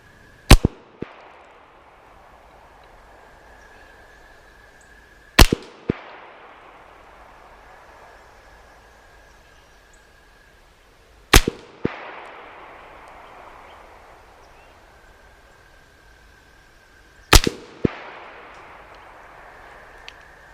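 Four widely spaced gunshots from a CMMG Banshee in .40 S&W at an outdoor range, each a sharp, loud crack followed by a distant echo or steel plate ring.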